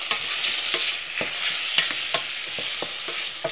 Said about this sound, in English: we're gonna give this a stir